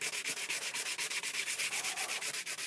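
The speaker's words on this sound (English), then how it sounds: "I'll just sand around the edge of this as a solid block just to smooth it off" Sandpaper is rubbed around the edges of a solid block for a scrap-built lightsaber prop, making fast, rhythmic, close-up scratchy strokes, about eight per second, with no talking.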